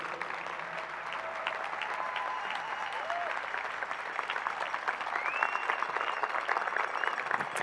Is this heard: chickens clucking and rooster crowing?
no